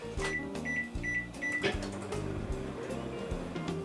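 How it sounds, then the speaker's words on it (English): Beeps and a clunk give way to a microwave oven humming steadily as it cooks a single-serve cinnamon roll in a mug, a close, moderately quiet drone with faint knocks. "Now let's put it in the microwave."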